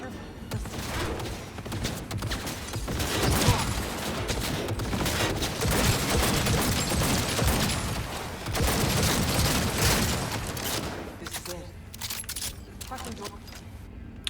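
Turret gunfire in Cyberpunk 2077: long, dense, continuous bursts of rapid automatic fire with rumbling impacts, easing off near the end, with voices talking over it.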